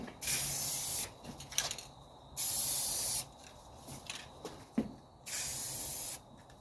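An aerosol can sprays semi-gloss paint onto the battery tray of a 1985 Mercedes 300D in light coats. Three long, steady hissing bursts come close and loud, with quiet gaps and small clicks and handling noises between them.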